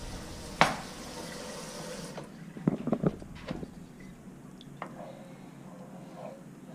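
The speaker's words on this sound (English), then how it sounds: "Add a 1/3 cup of water to the gravy." Water pours into brown gravy in a few short bursts of splashing and trickling, with soft liquid sloshing and small clinks against a quiet background.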